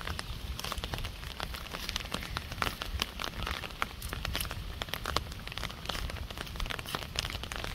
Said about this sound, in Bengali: সকালবেলা এত বৃষ্টি